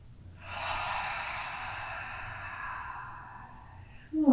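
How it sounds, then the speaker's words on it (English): A single long, deep breath during a yoga warm-up, a steady airy exhale lasting several seconds, close and fairly soft, followed by a brief louder sound at the end. "Big full breath here."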